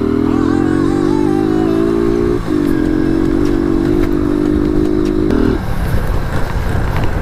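Modified motorcycle on the move, its engine revving high and loud in long sustained pulls with a sharp pitch step partway through, then dropping off near the end, close to the listener.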